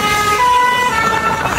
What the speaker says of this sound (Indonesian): Ini bus di Indonesia ya guys. Lain hal kalau di bus di India ya. Wah, mantap. Klaksonnya ya.